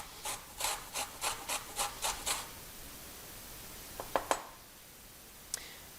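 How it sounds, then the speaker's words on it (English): Brussels sprouts rubbed against a grater in a kitchen, giving eight quick rhythmic rasping strokes, then a short pause and a few sharp scraping clicks, close and fairly quiet with no talk. "if you don't have the patience to grate all of your Brussels sprouts, you could also shred those"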